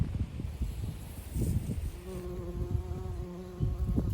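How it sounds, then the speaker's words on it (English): Bees buzz while feeding on yellow rattle in a farm meadow, a close, droning hum that wavers in pitch as they move, over soft outdoor background noise with no talk. "There's lots of bees that I've noticed feeding on the yellow rattle."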